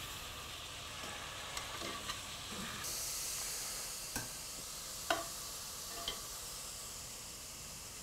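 Steady sizzling hiss of pork shank pieces browning in a pan, with a few sharp clinks of a utensil stirring and scraping through the constant frying sound.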